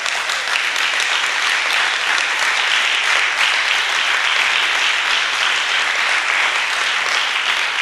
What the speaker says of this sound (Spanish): Vamos a darle un aplauso a San José.